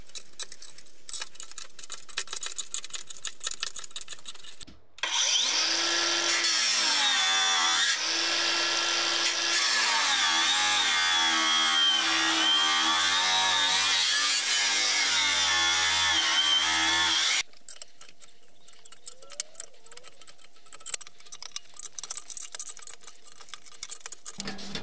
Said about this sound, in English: I'm lifting the folded sheet metal so the spot welds can be cut.